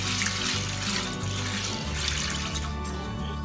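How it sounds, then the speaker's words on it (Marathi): Chana dal being washed in clean water makes a steady close rush of running and sloshing water with faint splashes, heard alone with no voices. "आता तिला मी स्वच्छ पाण्याने धुऊन घेऊ।"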